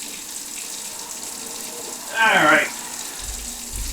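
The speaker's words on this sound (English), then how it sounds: "I'm going to turn cold water on in the sink" Cold water from a kitchen sink tap gushes in a short burst of under a second against a quiet room hum, and a voice speaks a single brief word.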